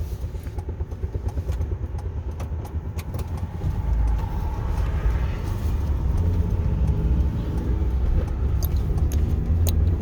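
A truck engine rumbles low and steady while driving, growing a bit louder partway through, with faint clicks and rattles on top and no talking.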